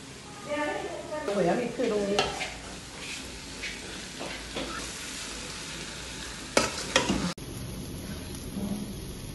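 Khoya is stirred into carrot halwa in a pan, a sizzling, scraping churn with bursts of spoon-against-pan noise and a sharp clatter near the end, while a voice briefly speaks early on.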